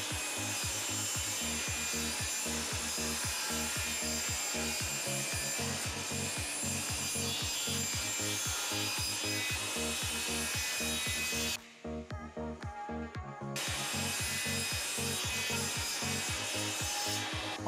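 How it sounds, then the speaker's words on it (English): Handsaw strokes cutting 1/4-inch plywood into shelves, a steady, loud, rapid back-and-forth rasping rhythm held close throughout, with a brief pause near the end before sawing resumes. "we're finishing up our cuts with 24 shelves cut from 1/4-inch plywood"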